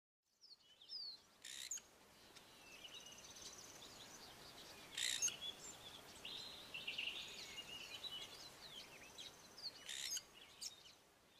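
Scratchy, harsh calls of a fork-tailed drongo burst out several times over a soft, constant insect hiss, fairly distant and spaced a few seconds apart.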